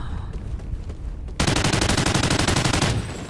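Rapid automatic gunfire from a video game weapon erupts after a quieter stretch, a loud, close, dense burst of rattling shots lasting about a second and a half before easing off, with no talk.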